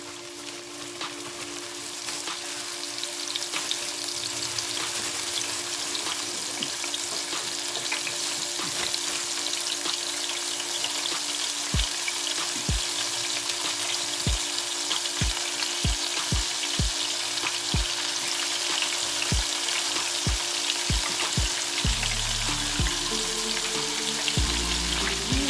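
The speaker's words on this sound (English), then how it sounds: "Alright, drop those in. And give them a fry." Chicken gizzards fry in hot oil with a dense, steady sizzle and crackle, scattered sharp pops through the middle stretch and a brief low clatter near the end.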